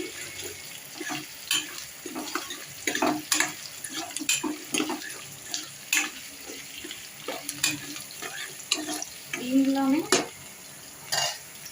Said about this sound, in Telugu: బాగా వేగాలండి ఫ్రైడ్ రైస్కి